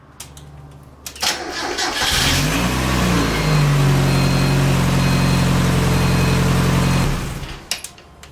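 A Mazda NA Miata engine cranks briefly, catches and settles into a steady, rumbling idle for several seconds before shutting off, heard up close and alone.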